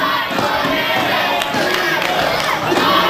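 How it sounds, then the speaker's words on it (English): Large professional wrestling crowd in an arena chanting together for five more minutes, a loud, dense, roaring wall of voices with rhythmic swells and scattered shouts. "They're chanting for 5 more minutes."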